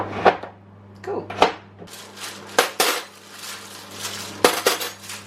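Metal cutlery being dropped into a kitchen drawer gives sharp, bright clinks and clatters in several bursts, with a low steady hum underneath and no talking.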